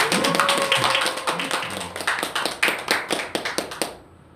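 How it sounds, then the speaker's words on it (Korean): A church congregation claps together during a Sunday worship service, a dense burst of hand claps that settles into a loose rhythm before stopping abruptly near the end. "박수 한번 주실까요?"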